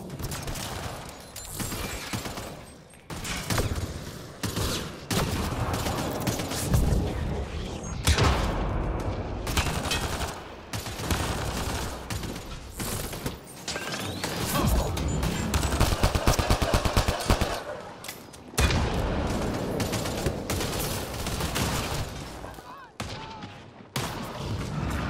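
Gunfire on a hostile alien world in Mass Effect Andromeda, rapid bursts and single shots crackling loud and close, with booms and brief pauses between volleys.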